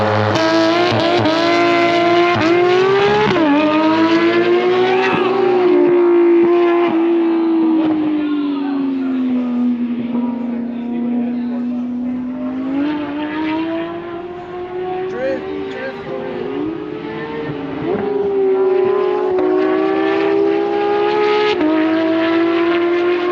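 An Audi R8 and a Corvette race with tires smoking, their engines holding a loud, steady drone that rises and dips in pitch over about twenty seconds, with voices talking over the top.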